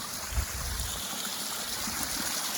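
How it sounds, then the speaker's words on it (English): A waterfall-fed stream in Costa Rica gives off a steady, soft rushing and trickling wash of water, continuous and moderately distant, with no voices over it. "We got a water fountain right here. Waterfall."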